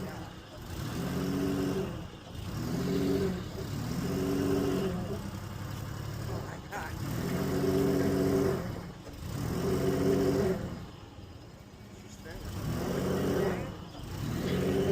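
The engine of a stuck Amazon delivery truck revs hard as the driver presses the gas, cycling in steady surges every couple of seconds, loud and close, with people speaking intermittently.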